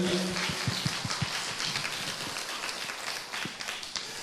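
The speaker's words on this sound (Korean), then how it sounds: "하나님께 우리 박수로 영광을 올려드리십시다" A church congregation applauds during a Sunday service, a steady wash of many hands clapping at moderate distance, fairly soft and even throughout with a few louder claps early on.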